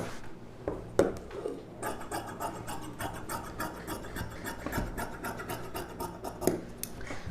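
Scissors cut through silk saree blouse fabric, a continuous close-up rasping crunch of repeated snips and rubbing, steady and moderately loud with a few sharper clicks.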